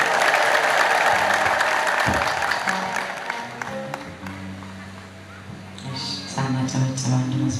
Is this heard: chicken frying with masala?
no